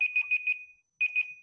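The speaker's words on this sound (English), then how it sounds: "that's my alarm" A phone alarm goes off close by in an indoor presentation, a quick run of four bright electronic beeps, a short pause, then two more beeps, clear with no talk over it.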